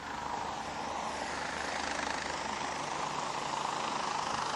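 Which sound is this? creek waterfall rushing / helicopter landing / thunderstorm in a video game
helicopter landing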